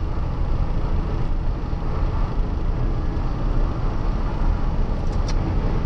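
A truck driving along a road in poor weather, heard from inside the cab as a steady, loud broadband rumble of engine and road noise, continuous without change.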